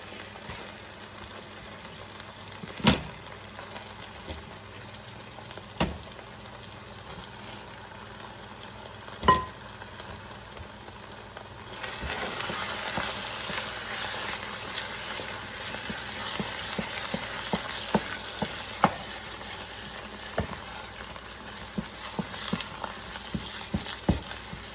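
Mashed potatoes being mixed for Kenyan mukimo make soft squelching, crackly stirring noises, quiet at first with a few sharp knocks, then a denser wet mixing texture for the rest.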